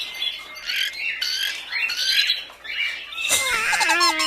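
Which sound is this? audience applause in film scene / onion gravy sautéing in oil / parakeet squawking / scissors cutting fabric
parakeet squawking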